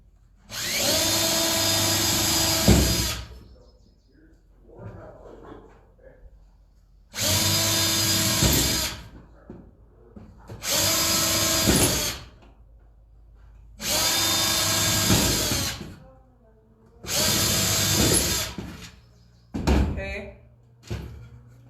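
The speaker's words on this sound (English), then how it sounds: "I think I'm just going to drill maybe 4 or 5 holes in the bottom." A power drill whirs loudly in five separate bursts, drilling holes in the bottom of a wooden planter box, each lasting a couple of seconds with short pauses and faint clatter between them.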